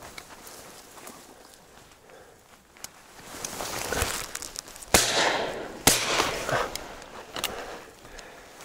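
A shotgun goes off during an evening duck hunt, two sharp loud blasts about a second apart that rise over quiet outdoor background noise and rustling.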